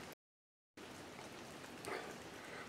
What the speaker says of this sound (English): It's kind of a dark day in Connecticut, and it's raining